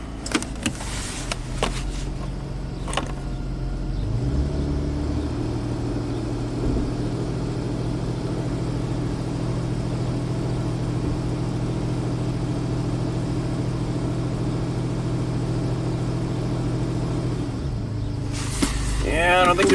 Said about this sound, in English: I'll just power brake it.